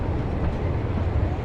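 Pleasure Beach Express miniature train at Blackpool Pleasure Beach pulling out of its station, a close, steady low rumble of wheels and carriages rolling continuously.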